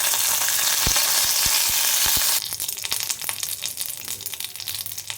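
Curry leaves dropped into hot oil with mustard seeds, lentils and dried red chilli for idli pulihora: a loud hiss with a few knocks, then crackling sizzle with rapid pops and stirring, no talking.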